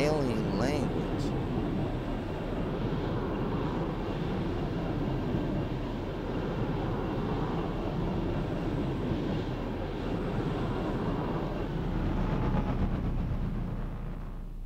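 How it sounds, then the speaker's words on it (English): Ship engines in the space game X4 Foundations drone steadily, a loud, dense rumble holding constant throughout with a slight swell near the end. "It's just my engines."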